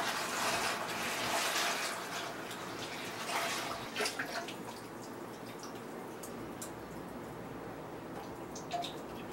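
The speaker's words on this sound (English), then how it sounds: "So we'll just keep pouring cool water in here until we get up to the 5-gallon mark." Cool water pours steadily into a sanitized five-gallon brewing bucket holding a tomato and sugar mixture for a sugar wash, a continuous splashing rush with faint drips, fairly quiet and with no voices.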